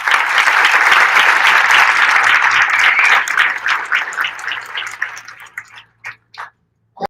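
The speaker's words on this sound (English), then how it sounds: "Please give them a round of applause." Audience at the inauguration of Miami Mayor Francis Suarez as U.S. Conference president giving a round of applause, loud dense clapping for about three seconds, then thinning into scattered individual claps that trail off to near silence.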